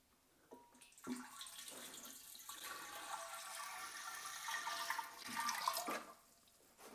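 Water running from a tap into a homemade studio sink, a sustained splashing rush that starts after a few clunks, swells steadily, then stops abruptly near the end.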